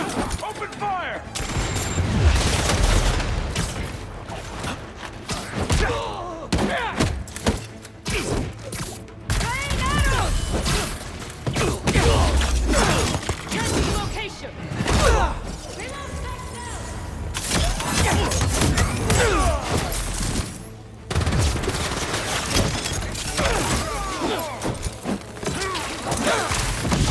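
Video game gunfire in Marvel's Spider-Man 2 rattles in rapid bursts and volleys, mixed with mechanical clanks, impacts and shattering, continuous and loud with voices occasionally woven in.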